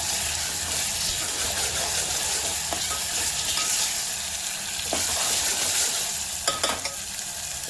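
Mutton coated in masala paste sautés in a pan for a dry mutton dish, giving a steady close sizzle with scraping stir strokes and a few sharper clacks near the end.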